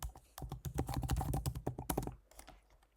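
Quick, close keystrokes on a computer keyboard as a password is entered, a dense run of light taps that thins out near the end.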